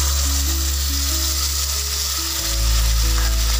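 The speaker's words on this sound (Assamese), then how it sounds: "আৰু মই এতিয়া ইয়াতে পানী দি দিম" Hot water poured into a fish and jackfruit seed curry, a loud, dense, continuous rushing sizzle that swells after a couple of seconds, up close and without speech.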